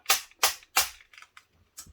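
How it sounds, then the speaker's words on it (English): A BMW 6-CD stacker magazine is thumped against a surface to knock out its ball bearings. Three sharp, loud knocks come in quick rhythm, followed by several lighter rattling taps, with no talk. "give it a few thumps, that gets all the ball bearings out"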